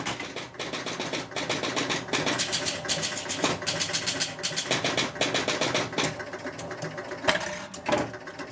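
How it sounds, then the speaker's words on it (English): A pinball machine powering up and launching its ball, heard as steady mechanical whirring and buzzing with rhythmic clicks and a few sharp knocks near the end, loud and close with no talking. "the machine started up, ball kicked out."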